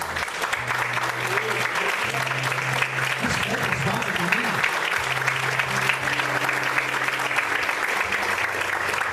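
A church congregation applauds steadily and loudly for several seconds, dense broadband clapping filling the room over a low sustained hum, with a few voices rising briefly through the mix.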